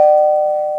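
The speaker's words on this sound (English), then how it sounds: "Don't forget to hit that notification bell." A single clear bell tone chimes once, sustained and bright, fading slightly over under a second, like a notification ding.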